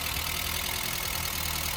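A Volkswagen Golf MK2 with a 1.6 engine runs after its first start following long storage, a steady continuous idle with a faintly tappety mechanical rumble.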